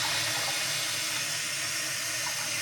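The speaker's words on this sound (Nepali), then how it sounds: "मैले पानी भर्नुपर्ने हुन्छ सो पानी चाहिँ हामीलाई खानको लागि चाहिन्छ" Water runs steadily from a kitchen tap into a container, a continuous close hiss and splash with no talking.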